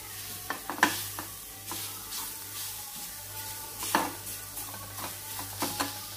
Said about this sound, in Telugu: రెండు కలిపి కొంచెం ఫ్రై అవ్వాలి